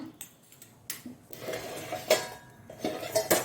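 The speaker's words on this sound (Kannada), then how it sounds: "ಈಚೆ ಸೈಡ್ನಲ್ಲಿ ನಾನು ಒಂದು ಬಾಣಲೆಯನ್ನು ಇಟ್ಟು ನೋಡಿ" A metal pan set on a kitchen stove while making Mangalore temple-style tur dal saaru, with scattered light clinks and knocks of cookware, several small metallic taps spread irregularly across a quiet room.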